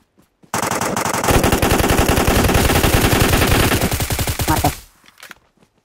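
Rapid, sustained automatic gunfire in PUBG Mobile, loud and continuous for about four seconds before stopping abruptly.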